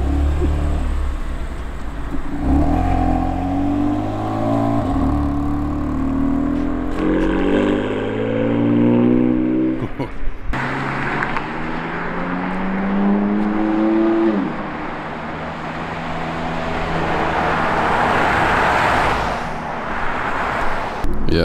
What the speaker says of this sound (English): And we'll get some exhaust sound for you guys.